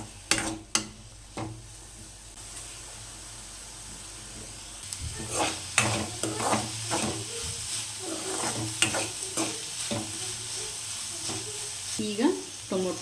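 Onions with salt fry in a pan for tomato bread toast; a quieter stretch gives way to a steady sizzle with repeated spatula scrapes and knocks.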